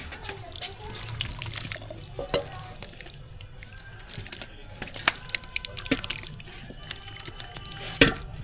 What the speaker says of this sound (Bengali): আর এটা পুরো ভাতের উপরে ঢেলে দেবো।